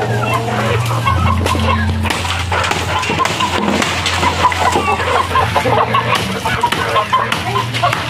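Chickens clucking and squawking nervously in a yard during nest-making with coconut leaves, an agitated, overlapping chorus of birds over a low steady hum, with faint splashing and brief talk.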